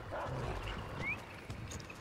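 Dog companion in the video game Remnant 2, heard as faint yips and low growling sounds mixed into quiet game ambience, with a brief high chirp in the middle.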